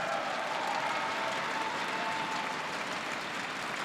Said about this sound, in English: all these fans that are cheering so loudly and passionately